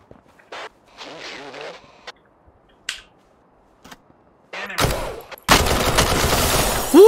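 Gunfire from the top-down tactical shooter game Thunder Tier One: scattered sharp clicks and single shots, then loud sustained bursts of automatic fire and blasts toward the end.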